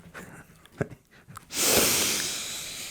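A voice imitates sniffing: a few short nasal snorts and breaths, then one long, strong inhaling hiss, heard up close.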